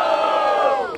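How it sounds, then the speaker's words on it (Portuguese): Crowd cheering at a street rap battle in Barueri, São Paulo, a loud, sustained roar of many voices shouting and whooping together, close and steady before fading slightly at the end. "Barulho pro Salvador e pro do rap!"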